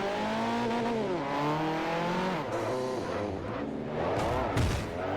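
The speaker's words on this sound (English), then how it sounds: "We've got 7 rally cars now already." In Forza Motorsport 4, a pack of rally cars races together during a Euro Hatch Challenge event. Their engines whine steadily and rise and fall in pitch, loud and close, with no talking.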